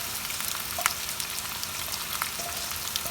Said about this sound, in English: so now our oil is nice and hot, and to this we're gonna add all our onions